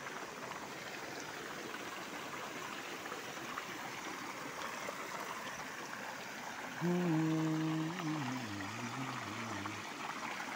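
Flowing water streaming steadily in the rain, a constant broadband rush throughout, with a tonal humming voice briefly rising over it near the end.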